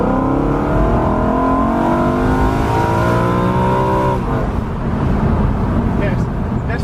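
A BMW E93 M3 engine, heard from inside the car on a drive, revs hard while accelerating, climbing steadily in pitch for about four seconds before easing off. It is loud and continuous, with a constant roar of road noise underneath.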